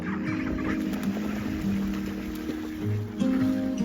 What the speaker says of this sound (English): somehow wrangling all these ducks into some kind of vehicle to put them in the tunnel